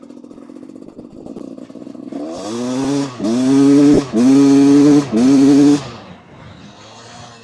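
A motorcycle fitted with a Lectron or copy carburetor revs loudly and close up in four sustained bursts of rising engine roar, with a rough idle before and after.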